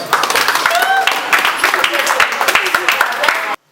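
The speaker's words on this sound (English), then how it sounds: "Clap for yourselves." An evening audience, children among them, claps for itself in a loose, uneven patter of individual hands, with voices calling out over it before it cuts off abruptly.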